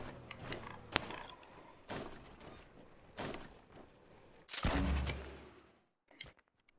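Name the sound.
accidental gunshot in a video game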